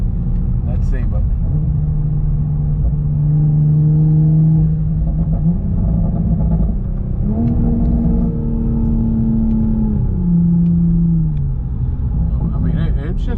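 Tuned Toyota Supra with a tuned transmission accelerating hard, its engine drone rising in pitch and dropping sharply at quick gear shifts, loud and close from inside the car, with a voice speaking over it.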